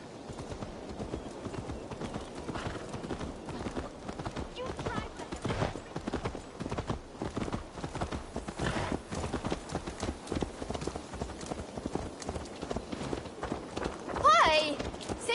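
Horse hooves clip-clop at a steady trotting pace throughout in the video game Assassin's Creed Valhalla, with a voice talking over them and a brief whinny near the end.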